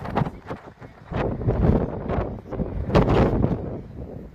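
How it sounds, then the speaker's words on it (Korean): Gusty wind buffets a microphone at a coastal lookout on Jindo island, South Korea, making irregular low rumbling thumps that rise and fall in bursts. "바람은 지금 바람이 불어서 흔들려서 이런 거거든요"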